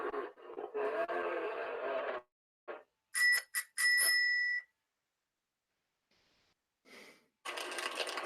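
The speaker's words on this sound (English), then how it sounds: "The bells. The bells." Bright metallic bell rings sound in a short cluster of quick strikes, set between bursts of broadband noise and pauses of near silence, at a moderate level.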